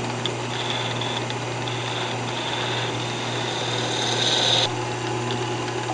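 A wood lathe turns a candlestick blank, giving a steady motor hum with continuous scraping and cutting noise from the turning tool. The cut grows louder near the end and then eases off. No one speaks.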